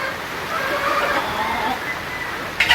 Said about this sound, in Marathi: आला मोठा आला पाऊस आज सकाळपासून आहे सकाळपासून आहे ना पाऊस थैमान घालतो